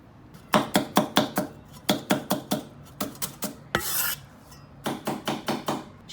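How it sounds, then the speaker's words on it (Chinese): A knife chops two small chili peppers on a cutting board in quick clusters of sharp, close taps, pausing between groups, with a short scraping sweep partway through. "切2个小辣椒"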